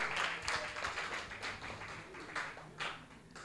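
A church congregation gives a steady round of applause during a worship service, heard faint and somewhat distant, the clapping swelling in waves with occasional louder bursts.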